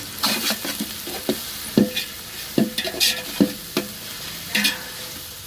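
Ginger garlic paste sautéing for village-style mutton biryani, a soft steady sizzle with repeated scraping and stirring knocks of a ladle against the pan, close and fairly quiet, no voices.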